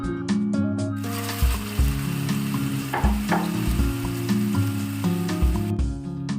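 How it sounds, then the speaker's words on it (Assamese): Spiral-cut potatoes fry in hot oil that was reused after frying pointed gourd, giving a steady, fairly loud sizzle for most of the clip. Faint clinks and scrapes from stirring sound over it, and no voices are heard. "একেখিনি তেলতে মই আকৌ আলুখিনি ফ্ৰাই কৰিছো"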